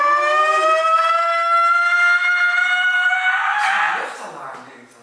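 A loud, sustained wailing tone with steady harmonics, like an air raid siren, holds for about four seconds before breaking into a rough, fading tail; the harmonics glide slightly, as if a voice may be imitating the sound.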